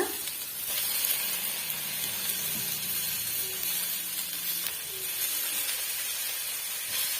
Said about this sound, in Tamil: ரெண்டு தக்காளி பழம் சேர்த்துட்டு ஓரளவுக்கு வதங்கி வர வரைக்கும் நம்ம வதக்கி விட்டுக்கலாம்